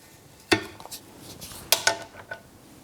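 A knife cuts into a Reese's peanut butter cup cookie, producing a few sharp clicks and taps of the blade against a plate amid quiet background, with two close strikes midway.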